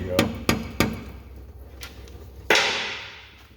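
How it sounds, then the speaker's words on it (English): A screwdriver pries at the sealed rear axle cover of a Ford F250/F350 Dana M275, with three sharp metallic taps, a couple of softer knocks, then a sudden scraping crack that fades out, close and alone. "Just giving it just a little pry here."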